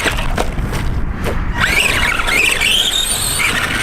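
An ARRMA Granite 4x4 monster truck with a brand new brushed motor runs on 2S LiPo, its high, whining squeal rising and falling in sweeps over a constant rough noise.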